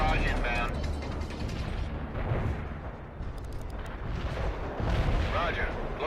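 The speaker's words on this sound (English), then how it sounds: "Heavy artillery barrage inbound." A heavy artillery barrage pounds the battlefield in the strategy game World in Conflict, a dense, continuous rumble of blasts and booms rolling on for several seconds, with a voice talking over the din.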